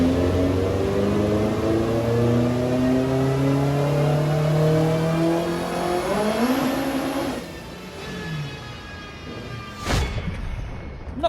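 A twin-engine Vauxhall Corsa running high boost revs hard on a dyno with its tyres spinning. The engine note climbs steadily, then drops away, and a sharp burst cuts in near the end.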